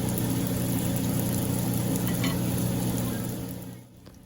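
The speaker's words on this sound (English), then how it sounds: "I gently lowered in 4 samosas once the oil was hot enough" Steady, loud sizzling and bubbling of four samosas deep-frying in hot oil, close up, fading somewhat toward the end.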